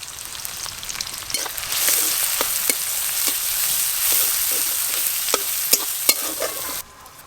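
Chopped onion, garlic, grated ginger and green chili sizzle and fry in hot mustard oil, with a steady close crackle broken by repeated sharp scrapes and clicks of stirring, then a sudden drop near the end.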